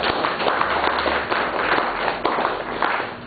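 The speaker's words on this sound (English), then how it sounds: "We give him a round of applause" Sustained audience applause at a lecture on mercantilism and colonial history, a dense steady wash of many hands clapping throughout, moderately loud with no talk over it.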